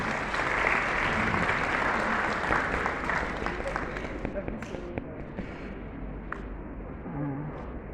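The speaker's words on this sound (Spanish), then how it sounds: "Un aplauso para nuestros voluntarios" An audience gives sustained applause in a lecture setting, loud clapping from many hands that gradually thins and fades toward the end, with a few voices mixed in.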